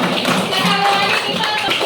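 A group of children in a classroom clap together in a quick burst of close, sharp, rapid claps, with no talk over them.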